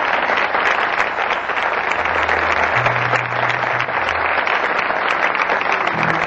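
A comedy festival audience in Colombia applauds loudly and steadily as one dense wash of clapping, with a faint low tone sounding beneath it.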